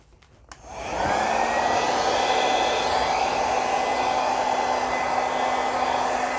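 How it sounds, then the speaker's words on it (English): A hair dryer drying paint on canvases switches on after a brief quiet moment and holds a loud, steady whirring whine with an even airflow hiss. No one speaks. "I used the dryer."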